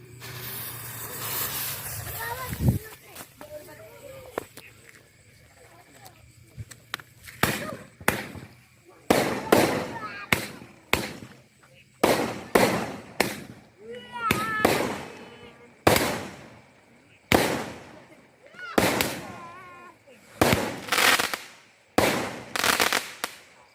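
Colored fireworks, roman candles and firecrackers set off during Ramadan, with a hissing fuse at first, then a long series of sharp loud bangs and crackling bursts at irregular intervals, some in quick clusters.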